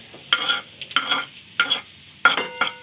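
Cabbage and bell pepper frying in hot oil for noodles, heard as four or five bursts of crackling sizzle and stirring, each lasting about a quarter second, separated by quieter gaps, close and fairly loud.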